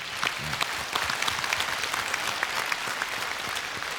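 Audience applause in a television music concert hall, a dense sustained wash of clapping from a large crowd, steady and even throughout.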